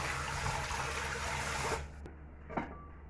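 Irish potatoes are washed in water while cooking a Jamaican chicken foot and pumpkin soup, giving a close, steady splashing and running-water wash that stops abruptly, followed by a few faint clinks and drips.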